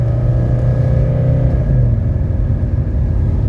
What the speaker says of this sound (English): This is a pretty steep hill right here, and we are going to accelerate going up the hill.